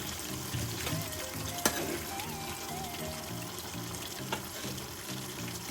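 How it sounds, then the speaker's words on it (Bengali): Hot water goes into chicken curry frying in a pan, bringing a soft, continuous sizzle and watery bubbling at close range with a few faint clinks and occasional low voices. "একটু গরম জল 1 কাপ মতো এর মধ্যে আমি দিয়ে দেবো।"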